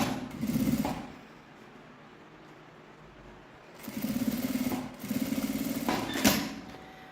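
A sewing machine stitches fabric for a crossbody bag in three short bursts of whirring, separated by quiet pauses, close and moderately loud.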